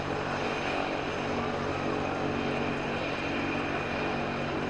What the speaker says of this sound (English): the sound that helicopter is making is coming through as clear for the broadcast as it is my ear